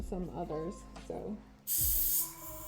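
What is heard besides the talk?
spraying paint onto a garage kit figure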